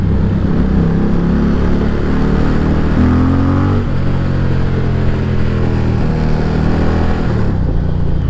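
An Indian Challenger motorcycle engine pulling hard while being ridden through the city, a deep loud rumble that climbs and dips between gear changes, heard up close.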